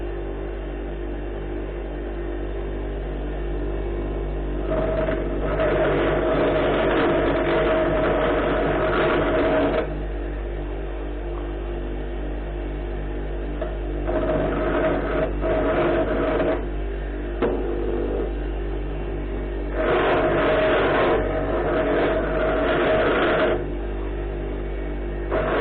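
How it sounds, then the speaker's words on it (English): A grinder takes burrs off the outside of metal tubing salvaged from a scrapped steam train, loud rasping bursts in three separate passes over a constant low motor hum. "we've got some burrs in the way on the outside of the tubing, so we've got to grind those off"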